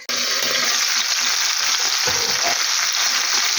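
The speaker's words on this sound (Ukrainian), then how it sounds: "буду обсмажувати його з кожної сторони" Bell peppers frying in a pan, partly covered with a lid, giving a loud, continuous bright sizzle that runs for nearly four seconds without pause and without talk.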